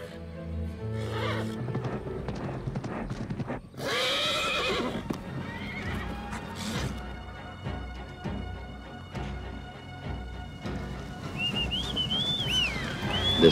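A horse whinnies and neighs loudly and repeatedly with rising and falling calls, while hooves clip-clop on the ground beneath, all close and continuous over a busy outdoor background.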